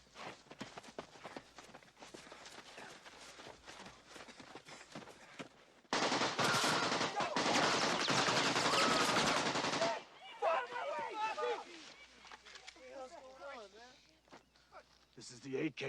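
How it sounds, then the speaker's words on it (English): AK-47 assault rifle firing live rounds, with a dense, loud burst of automatic fire in the middle, quieter scattered shots and movement around it, and voices nearby. "This is the AK-47 assault rifle, the preferred weapon of your enemy. And it makes a distinctive sound when fired at you"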